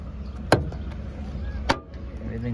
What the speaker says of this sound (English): Very soft letdown on the tailgates, what we like to see.